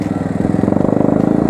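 A Pulsar motorcycle engine runs close by with a steady, throbbing exhaust pulse that grows firmer and more regular partway through the short stretch.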